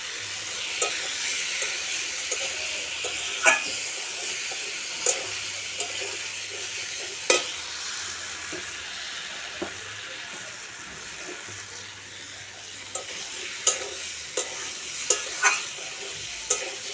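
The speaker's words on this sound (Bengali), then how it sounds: "পটল চিংড়ির মশলাটা কষা হচ্ছে" Steady sizzling in a pan as spice paste for a pointed gourd and prawn curry is sautéed, with repeated scraping and stirring strokes, a spatula clacking against metal every second or two, close by.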